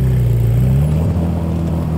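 A manual-transmission car with a dog-leg gearbox revs at a Cars & Coffee meet, its engine holding a steady, close, loud drone that climbs slightly in pitch before settling.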